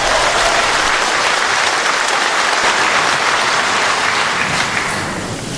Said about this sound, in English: Let's hear her applause.